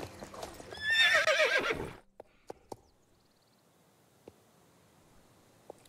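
A horse in the video game Star Stable Online whinnies loudly for about two seconds, followed by a few sharp, sparse hoof clops in a quiet background.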